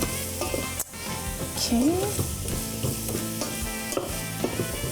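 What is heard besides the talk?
tofu, onions, carrot and garlic sizzling in a pan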